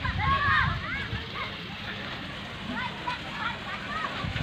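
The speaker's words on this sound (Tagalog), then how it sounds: "tubig na umaagos" Water runs beside a hut near the top of Mt. Caningag in Pintuyan, Southern Leyte, making a continuous rushing, splashing wash, while voices talk faintly over it.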